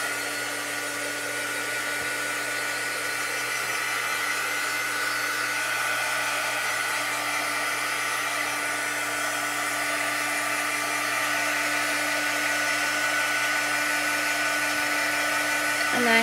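A hair dryer drying chalk paste on a craft project, a steady loud whining blow with a high tonal hum that holds constant from start to finish.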